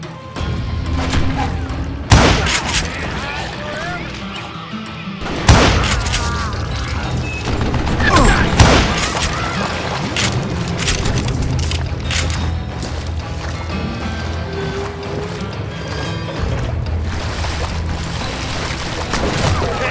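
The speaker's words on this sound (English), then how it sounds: "a fusillade of bullets come raining down from on high" Gunfire erupts in the Western shooter Call of Juarez Gunslinger: heavy booming shots and impacts hit in bursts over a dense, busy game soundscape, loud and continuous.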